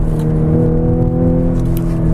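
A 2014 Audi S4 pulls hard under acceleration, its engine note a loud, steady droning hum heard from inside the car, holding firm for a couple of seconds with no talk.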